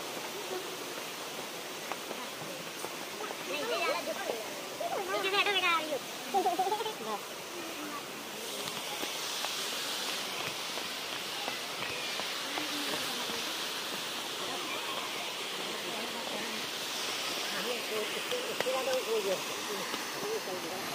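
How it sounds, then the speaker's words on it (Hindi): Panda Fall, a natural waterfall in Panna Tiger Reserve, gives off a steady broadband rush of falling water that runs the whole time, with voices talking now and then over the roar. "ये झरना प्राकृतिक दृश्य है"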